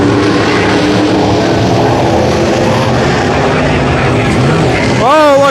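Race cars circling the track at Brownstown Speedway on a Saturday night, a loud continuous engine roar with rising and falling pitch, under an announcer's steady commentary.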